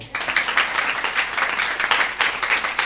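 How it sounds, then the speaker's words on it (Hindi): A group of students in a gurukul clapping together during a storytelling session, steady fast close applause lasting a few seconds. "हरी बोल, ताली बजाओ"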